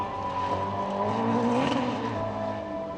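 A fast rallycross car driven by Jenson Button drones steadily in a racing game, its engine tone sweeping upward briefly around the middle under a continuous broadband roar, loud and close with no break.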